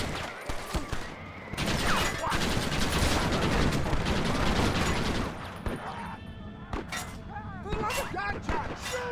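Dense gunfire in the Western shootout video game Red Dead Redemption, sustained rapid shots and bursts with shouting voices over the fighting, then scattered single shots after a brief lull.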